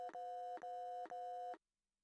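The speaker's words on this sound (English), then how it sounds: "After a few ringing sounds, we were connected to a call center." An elevator emergency call line rings three times in Sympathy Kiss, a steady electronic double-tone pattern in regular pulses, then cuts to silence.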